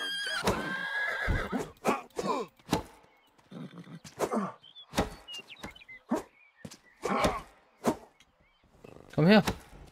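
Horses whinny and neigh repeatedly in the video game Rustler, several sharp calls spread across the clip between quieter gaps, with a loud close whinny near the end.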